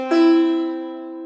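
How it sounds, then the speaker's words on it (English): One steady sustained tone sounds the third note of the Indian scale, Ga (Gandhara). It has a clear pitch and rich harmonics, starts with a soft attack and then holds evenly and alone. "Ga, which is Gandhara."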